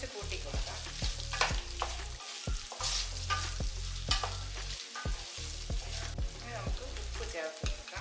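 Mango pieces fry and sizzle in a pan over a raised flame, with steady hissing broken by repeated scraping stirs and low rhythmic knocks throughout, close and fairly loud.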